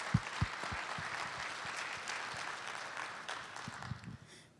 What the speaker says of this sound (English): Let's give Zenola a round of applause.